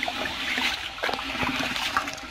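A hand stirs salt into water in a container to make a paddy seed treatment solution, giving close, continuous sloshing and swishing with small splashes throughout.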